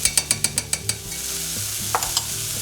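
Vegetables with a spoonful of tomato concentrate are stirred and toasted in a hot pan, opening with a quick run of about seven rhythmic spoon taps over a steady sizzle, then a few scattered scrapes later on.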